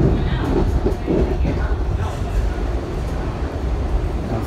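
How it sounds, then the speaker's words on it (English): Steady rumbling roar of a Kawasaki 7000-series subway train running along the rails, continuous and fairly loud, with no clear voices. "I think this is the return of the normal rail sound."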